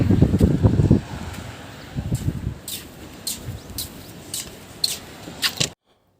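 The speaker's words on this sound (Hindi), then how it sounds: "बहुत तेज़ हवा चल रही है।" Gusty wind in Japan rumbles and buffets the microphone, strongest at the start, with scattered rustling and brief higher clicks before it cuts to silence.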